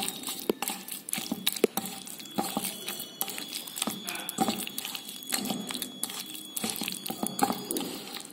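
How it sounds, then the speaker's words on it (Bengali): Chicken marinade with fresh lemon juice being squished and mixed by hand in a bowl, wet crinkly crunching and squelching close up, steady and continuous with small rustles throughout. "এবার এটা আমি পুরোটা হাত দিয়ে মিশিয়ে নিচ্ছি"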